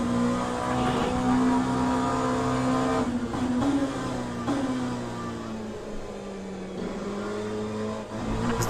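Race car in Le Mans Ultimate downshifting to first gear for a tight corner: a loud, continuous engine drone with pitch dipping and rising through blips and gear changes, brief revving bursts near the middle, no talking.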